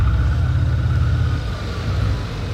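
A Mercedes S63 coupé fitted with a Mansory kit sends out a steady, deep exhaust rumble close by, an even low drone that holds for a couple of seconds with no voices.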